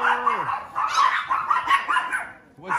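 Several dogs bark and yip close by in a house, in a busy overlapping burst, and a voice talks under and around the barking.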